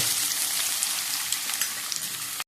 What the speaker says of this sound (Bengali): এবার গাজর আর বিনসটা ভেজে নেব।